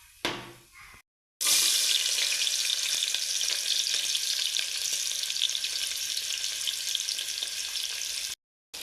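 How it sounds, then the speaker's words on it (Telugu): Chopped onions frying in oil with mustard seeds and cumin for a vegetable pulao, a steady loud sizzle with a few stirring scrapes, after a brief quieter start and a short gap. "ఆనియన్స్ ఫ్రై అవుతున్నాయి."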